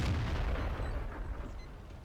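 A tank cannon firing in the video game World of Tanks, a single deep boom with a rumbling tail that decays over about two seconds, moderately loud and without talk.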